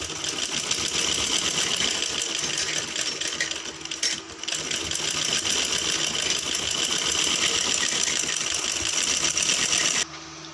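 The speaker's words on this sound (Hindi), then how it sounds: "अब मैं इस पे सिलाई लगाऊंगी। यहाँ पर मैं एक पैर की सिलाई लगाऊंगी।" A sewing machine runs fast and continuously while stitching the back neck facing of a kurti, a dense whirring chatter with one brief pause before stopping near the end.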